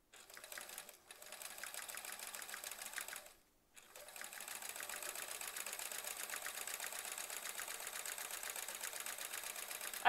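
A sewing machine stitches quilting lines on hedgehog embroidery in steady rapid runs, stopping briefly twice and then running on close and alone.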